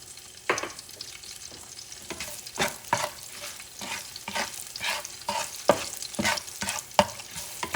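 Green onions frying in oil for a fish and tomato sauce stew: a soft, continuous sizzle broken by repeated spatula stirs and scrapes, close by, with no one speaking.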